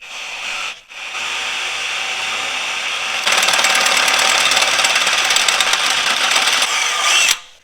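A power drill whines steadily and then bites harder into a law enforcement vehicle's metal frame, giving a louder, gritty grinding before stopping abruptly.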